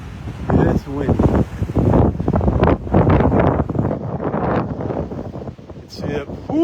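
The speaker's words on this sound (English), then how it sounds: "Windy as the dickens up here. See those flags blowing here." Heavy wind blasts across a Gulf beach at Delnor-Wiggins in North Naples, Florida, where flags are blowing; loud, steady buffeting roar with a person speaking over it.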